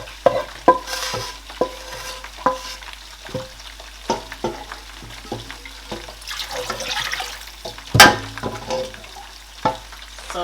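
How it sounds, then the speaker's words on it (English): Fried tomato goes into a pot of fish stock and is stirred, with repeated sharp spoon knocks and scrapes against the pot over a low simmering wash, one loud clatter near the end, and no voices. "I'm going to add my fried tomato in there as well"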